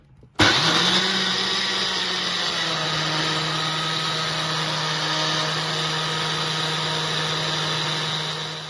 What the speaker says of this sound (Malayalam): ഇനി നമ്മൾ മിക്സിയുടെ ജാറ് അടച്ച് കഴിഞ്ഞിട്ട് നമുക്കൊന്ന് ബ്ലെൻഡ് ചെയ്തെടുക്കാം